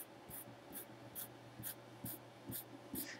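Pen strokes plotting points on plain paper, a series of about seven short, regular scratchy marks spaced roughly half a second apart, close and fairly quiet with no talk over them.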